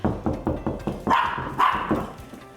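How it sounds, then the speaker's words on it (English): A small dog barks repeatedly and close by, a rapid string of sharp yaps with a couple of higher, drawn-out yelps. "If she hears something, she'll start barking"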